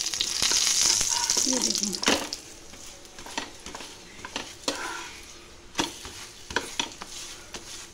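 Aloo paratha frying in refined oil in a pan, with a loud sizzle at first that fades into scattered crackles and the scrape and clink of a utensil against the pan. Someone speaks briefly over the cooking.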